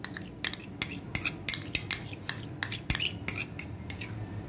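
A spoon stirs mayonnaise and ketchup together in a bowl, giving rapid, rhythmic metal clinks against the dish, about a dozen sharp taps in quick succession, close and alone.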